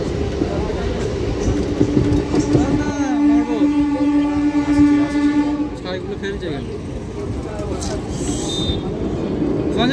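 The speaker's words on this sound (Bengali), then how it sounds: "বর্ধমান কাটোয়া ট্রেনটায় আমি এলাম।" A Bardhaman–Katwa passenger train runs along its line, a loud steady rumble of wheels and carriages with a sustained horn-like tone for a few seconds midway, while a voice talks over it.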